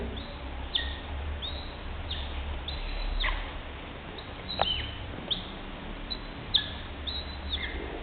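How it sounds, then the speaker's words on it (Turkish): High, thin chirps and squeaks from an eaglet repeat irregularly while it feeds on chicken liver, over a soft, steady background hiss. "Şu anda kartal yavrusu besleniyor."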